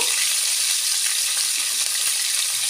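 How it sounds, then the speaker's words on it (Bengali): Cauliflower pieces frying in oil for a fish curry, a dense bright sizzle holding steady and close throughout, with a few faint stirring taps and no voices. "এবার ফুলকপিটাও ভেজে নেব"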